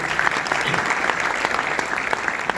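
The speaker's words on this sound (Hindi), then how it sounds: "उनके बड़प्पन के नाम भी एक बार जोरदार तालियां बजाइए" An audience at a Hindi stage gathering breaks into hearty, sustained clapping, a dense unbroken wash of many hands lasting the whole few seconds, with no voices over it.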